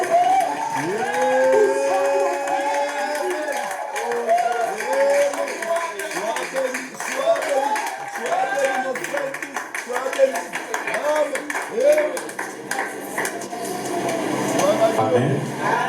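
A church congregation acclaims together, with loud voices calling out and singing over scattered rhythmic hand clapping that continues steadily and close throughout.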